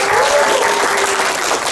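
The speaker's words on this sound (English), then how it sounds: "Big round of applause for this circle." Steady applause from a workshop audience rewarding a discussion circle, a dense continuous clatter of many hands clapping at close range, holding level throughout with no voices over it.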